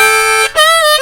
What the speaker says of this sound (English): So after I do the 2-5 draw interval